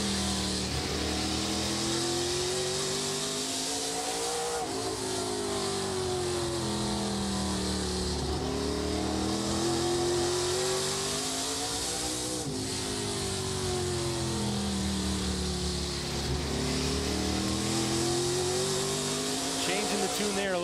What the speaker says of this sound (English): Listen to what Daniel Dye is doing on that gas pedal and not on the gas pedal to make this car work on the outside.